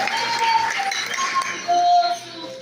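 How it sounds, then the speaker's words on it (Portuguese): A church congregation applauds during an evening worship service, a dense wash of clapping under a few voices and sustained tones, steady and moderately loud throughout. "dá um forte aplauso para Ele"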